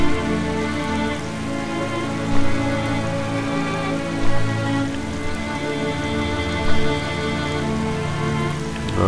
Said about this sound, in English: Okay, it's still raining though.